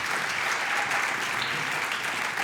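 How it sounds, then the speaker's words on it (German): Applause from a song contest final audience for a singer, a steady, moderately soft wash of many hands clapping, continuous and uniform for a couple of seconds. "Anna, das ist dein Applaus."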